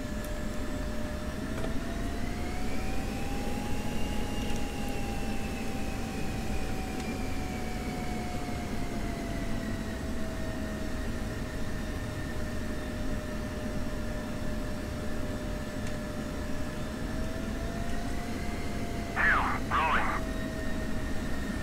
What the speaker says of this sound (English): the Hind's taxiing out now